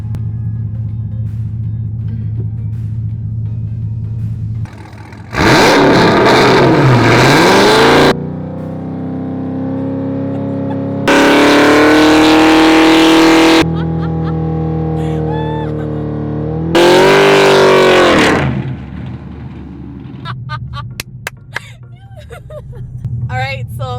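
A Dodge Hellcat Redeye performs a burnout, the supercharged engine roaring in three loud, sustained revs with tire spin between quieter idle stretches, and voices are faintly audible in the background.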